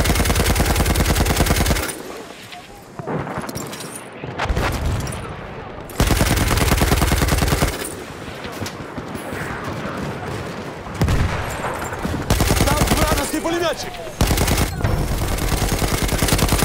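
Machine gun fire in the Battlefield 1 video game: long, loud, rapid bursts of automatic fire with short gaps between them. Other gunshots and battle noise fill the pauses.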